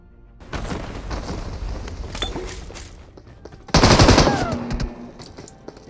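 Rapid automatic gunfire bursts ring out in a solo third-person shooter match, with a dense volley at the start followed by a louder, heavier burst near the end.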